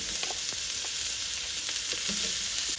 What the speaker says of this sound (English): Then I'm going to put in my carrots. Stir fry that a little bit.